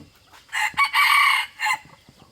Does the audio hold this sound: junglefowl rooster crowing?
yes